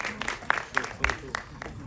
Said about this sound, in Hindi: एक बार जोरदार तालियां चाहिए अनुराग के लिए।